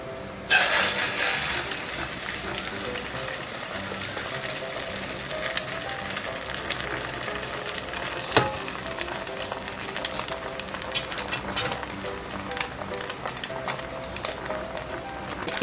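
Beaten eggs fry in a pan for a thick omelette, giving a continuous crackling sizzle with scattered sharp pops and light utensil clinks throughout.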